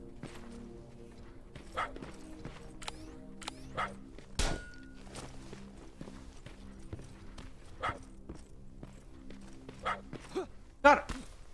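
A dog in the video game Terminator Resistance gives scattered short barks, louder toward the end, among footsteps, clinks and a droning game soundtrack.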